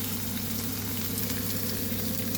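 Steak searing in a frying pan, with a steady, close, continuous sizzle at moderate volume over a low background hum and no talking.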